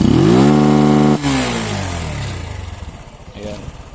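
A motorcycle engine with a programmable CDI screams at high revs and holds against its 9,000 RPM limiter, then drops off and sputters down to a choppy idle.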